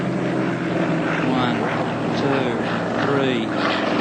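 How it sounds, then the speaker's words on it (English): Yak-50 aerobatic aeroplane engine giving off a steady, low, slightly wavering rumble that holds throughout, with a commentator's voice talking over it. "The aeroplane has a strange sound to it. It's just a quiet rumble."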